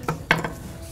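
Diced red onion and jalapeno peppers scraped off a cutting board into a pot of beans for barbecue baked beans, three short close scraping knocks in under a second, no talk.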